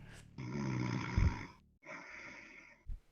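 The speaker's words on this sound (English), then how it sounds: "This man snoring is going on." Loud, close snoring from a sleeping man: two long rasping, rumbling breaths separated by a short gap, ending with a brief snort.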